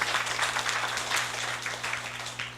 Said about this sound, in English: Give her a round of applause for Vivian.